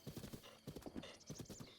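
Horse hooves clip-clop in Breath of the Wild, a quick, even galloping rhythm of close, crisp hoof strikes repeating in clusters throughout, with no voices over it.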